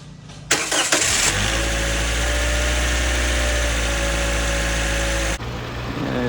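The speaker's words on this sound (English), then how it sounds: "we should be starting the car soon" 2014 Toyota Corolla with new spark plugs and ignition coils cranking briefly, then catching and settling into a steady idle for several seconds before switching off, close and clear with no talking.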